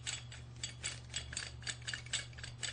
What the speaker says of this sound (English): So we're going to put the screw in